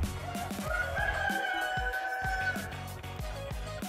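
A rooster crows in a long drawn-out call over a busy farmyard background with clucking and scattered knocks.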